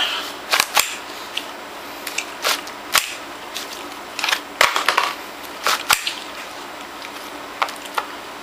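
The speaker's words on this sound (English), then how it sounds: "take a look at the bolt right here. Let's go ahead and close that" The bolt of a home-made M4 rifle is worked and closed, giving a scatter of sharp, close metallic clicks and snaps separated by quiet gaps.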